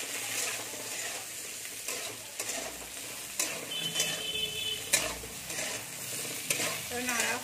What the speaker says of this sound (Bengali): নুন দিয়ে একটু নেড়ে নেবো।